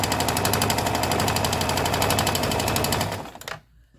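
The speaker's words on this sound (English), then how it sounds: "You want to make sure that you're not stitching the fringes on the bottom." A sewing machine runs fast and steady stitching fringe tassels onto a feast day shirt, a rapid even mechanical chatter close by that slows and stops near the end, leaving quiet.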